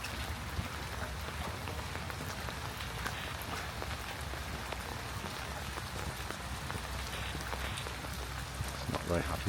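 Steady rain pattering and hissing at the Jewish cemetery beside the synagogue in Krakow, a continuous close wash of drops on surfaces with faint ticks throughout.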